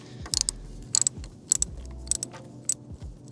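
A 10mm socket ratchet works a lever bolt loose on a Yamaha R7 motorcycle, giving short bursts of sharp metallic clicking that repeat about every half second, close and fairly loud, with no talking.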